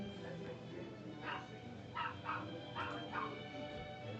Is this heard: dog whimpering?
yes